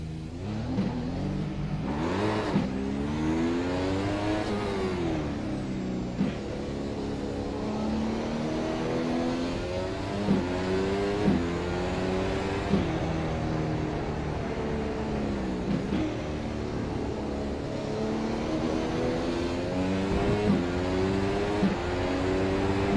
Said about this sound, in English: Let's just go out and race the car.